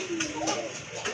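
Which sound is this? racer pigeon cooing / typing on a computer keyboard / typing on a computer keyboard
racer pigeon cooing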